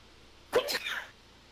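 One short, sharp sneeze bursts out during a tabletop role-playing session, with quiet room tone before and after.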